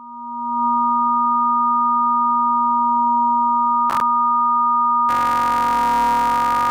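A steady electronic tone holds, broken by a brief click, then swells into a dense, smeared wash of 10,500 stacked reverbs that rings on loudly.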